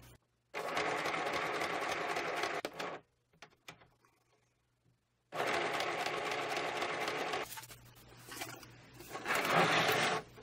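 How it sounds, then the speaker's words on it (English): A sewing machine stitches through a collage greeting card in two loud, rapid bursts of mechanical whirring separated by a quiet pause, followed by a shorter spurt of motor noise near the end. "I'm going to change the stitch on my sewing machine and add just a little bit of zigzag."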